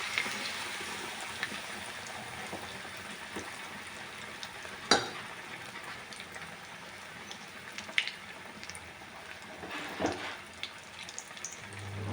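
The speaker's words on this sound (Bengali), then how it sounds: "এরকম করে সবগুলো ভেজে নেব" Paneer sandwiches fry in a pan at home, giving a soft, even sizzle throughout with a few scattered louder crackles and pops.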